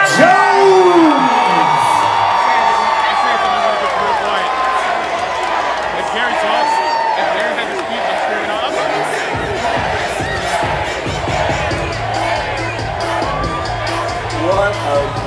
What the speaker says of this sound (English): What a great crowd.